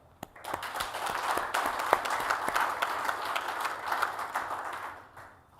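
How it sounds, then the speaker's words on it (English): A conference audience breaks into applause, a dense patter of many clapping hands swelling quickly, holding steady, then tapering off near the end. "can we all have a round of applause for everybody I've mentioned"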